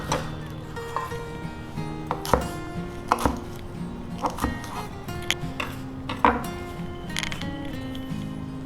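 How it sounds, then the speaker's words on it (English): A knife chops lettuce cores roughly on a cutting board, sending sharp, close knocks in an irregular series while a person talks over the chopping. "Now these are the core of the lettuce, just give them a rough chop like this"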